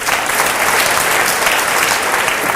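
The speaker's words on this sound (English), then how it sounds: "Give them a big clap." An indoor audience at a talk on EMF radiation gives a loud, dense burst of applause, many hands clapping continuously and close by for the whole stretch, with no speech over it.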